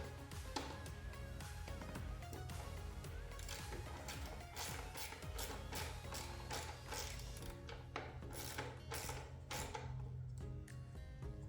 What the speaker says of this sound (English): Now I'm picking up my socket, getting on top of that bolt.